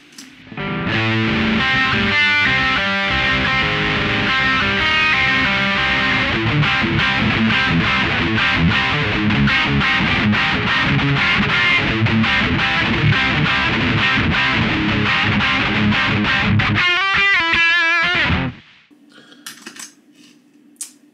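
Loud electric guitar played through a distortion amp pedal (Laney Ironheart Foundry Loudpedal), sustained chords ringing continuously, then cutting off abruptly and leaving faint hiss and small noises.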